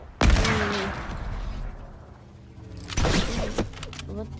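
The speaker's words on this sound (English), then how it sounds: "I just shot my sniper." A single sniper rifle shot in a video game cracks sharply near the start and decays, followed by a second loud blast a few seconds later, with a voice speaking in between.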